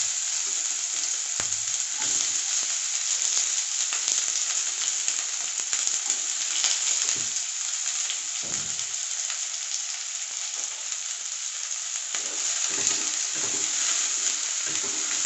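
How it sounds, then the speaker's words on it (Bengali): Chopped onion dropped into hot oil with black cumin in a pan sends up a loud, continuous, close sizzle that hisses evenly for the whole stretch, with no one speaking. "কালো জিরেটা একটু গরম হয়ে গেছে, পেঁয়াজটা দিয়ে দেবো।"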